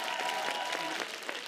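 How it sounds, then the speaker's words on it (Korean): Brief burst of studio audience applause after a magic performance by the act Lipstical Punk on a Korean magic competition show, a quick scatter of claps heard at moderate distance. "리프티컬 펑크 큰 박수 부탁드리겠습니다"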